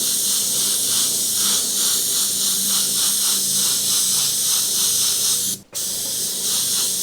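An airbrush spraying paint over a layer of a clown and green fire design, a loud steady close hiss with a faint pulsing flutter, cutting out abruptly for a split second before resuming.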